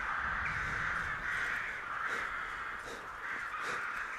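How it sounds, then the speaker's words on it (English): Crows in Skyrim caw loudly and repeatedly, a series of harsh calls close by over a steady outdoor ambience, with no one talking. "Goodness, these crows are loud"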